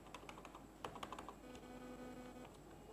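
Rapid keystrokes on a computer keyboard while Java code is typed, a quick irregular run of clicks in the first half easing into sparser taps, close and fairly faint over a low steady hum.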